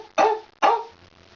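A girl imitates a dog, giving two sharp, loud barks in quick succession with a short gap between them, alone and without other talk.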